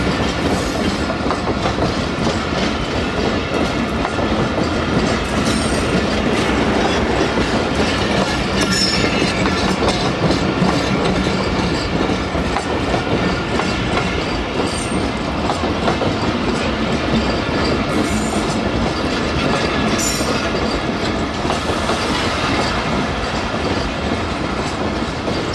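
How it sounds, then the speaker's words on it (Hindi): A long passenger train arrives at Landhi Junction in Karachi, its wheels clattering steadily over the rail joints with a continuous loud rumble. Brief squeals and a faint horn rise above the din. "के साथ पहुंच रही है ट्रेन लांडी जंक्शन पर"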